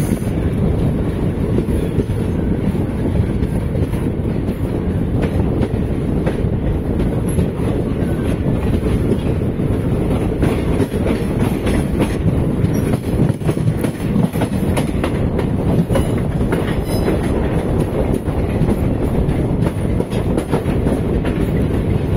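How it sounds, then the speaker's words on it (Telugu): A passenger train rolls through the Chennai Egmore area with loud, continuous wheel rumble and steady clickety-clack, heard close and unbroken with no voices. "train Kollam express, Chennai Egmore"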